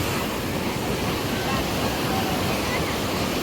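A waterfall roars steadily, a dense, unbroken rush of crashing water that stays loud and even throughout.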